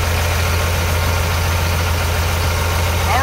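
A 2002 Blue Bird bus diesel engine idles steadily, a deep constant rumble with a low throbbing hum and no change in pace, heard up close.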